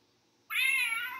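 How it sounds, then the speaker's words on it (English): A toy box gives a single short, high-pitched electronic meow when opened, clear and close after a moment of near silence, with no voices. "The box meows when you open it."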